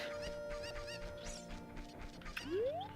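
Chicken clucking in the video game The Legend of Zelda: Ocarina of Time, short clucks over game music, ending in a rising squawk-like sweep.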